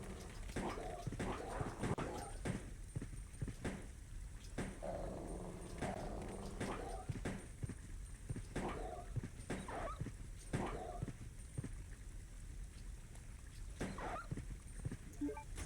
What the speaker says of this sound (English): Them zombie dogs are pretty tough.